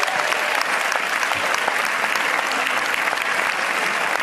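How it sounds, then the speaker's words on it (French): Loud, dense audience applause at a formal speech event honoring a corporate partner, a continuous wash of many hands clapping evenly throughout with no pauses or voices. "je vous demande d'applaudir le cabinet Deloitte et Associés"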